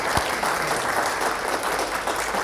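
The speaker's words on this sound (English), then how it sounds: "Please join me and give one more round of applause for Dr. Martin." Audience applause after a scientific talk on autism research: steady, dense clapping from a crowd, loud and continuous throughout with no voices over it.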